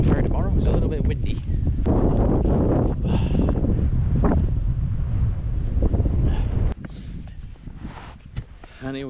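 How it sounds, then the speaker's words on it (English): Wind gusts across the shore at Whatamango Bay, New Zealand, buffeting the microphone with heavy low rumbling that drops off sharply near the end, while people talk over it. "It's a little bit windy."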